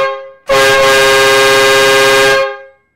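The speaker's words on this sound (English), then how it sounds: "So here's pretty much the horn." A train horn installed on a golf cart, running without an air tank, sounds one loud, deep, steady blast of about two seconds, close and alone, then cuts off.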